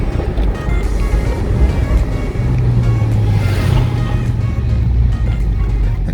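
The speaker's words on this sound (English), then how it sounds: "Downshift." A 2001 Porsche 986 Boxster Gemballa Avalanche custom roars loudly and close, its engine note shifting as it downshifts mid-drive over constant road and wind noise.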